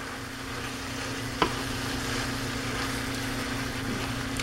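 Beef filling for chimichangas sizzles steadily in a frying pan while being stirred, a continuous close frying hiss with a low steady hum underneath and one brief knock of the utensil against the pan.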